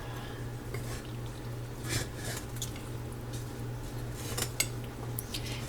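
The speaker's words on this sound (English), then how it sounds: "I'll probably add another can of tuna to this. Start mixing that up." A utensil stirs cold canned tuna noodle salad in a bowl, giving soft scattered scrapes and clicks over a low steady hum, faint and fairly close.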